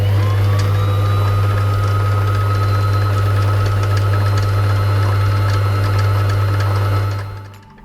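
A Brother LS14 domestic sewing machine hums steadily as it winds a bobbin, a loud continuous motor drone with whirring overtones that runs evenly for about seven seconds before quickly winding down and stopping.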